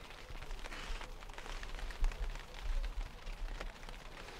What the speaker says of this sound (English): Doesn't that rain sound lovely on the top of the Polytunnel?